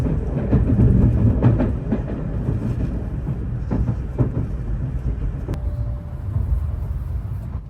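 Shinkansen bullet train running from Tokyo to Nagoya, heard from inside as a loud steady rumble with rhythmic rail clicks and a brief sharp tone near the end, no talking.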